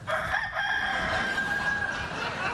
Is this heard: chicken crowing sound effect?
yes